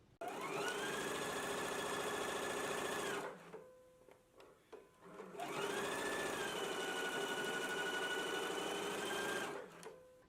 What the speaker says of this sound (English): So let's go ahead and stitch it in place now.